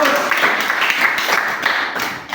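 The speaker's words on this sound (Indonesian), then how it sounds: "tepuk tangan untuk kelompok 3." Audience in a classroom discussion session clapping for a presenting group, a dense burst of applause from many hands lasting a couple of seconds.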